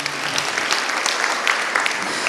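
Churchgoers in a Hindi-language Christian program clap for a woman, a brisk, fairly loud burst of many hands that holds steady for a couple of seconds.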